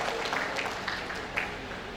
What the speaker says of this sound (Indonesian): Tepuk tangan buat Ketua Umum kita.